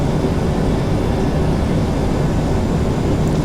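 A PMDG NGX airliner in a flight simulator game rolls for takeoff on runway 34, a loud continuous broadband jet engine roar held steady throughout with no talking.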